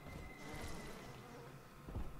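A bee swarm plasmid buzzes in BioShock 2: Minerva's Den, a faint, continuous insect drone with slight swells, heard alone without talk.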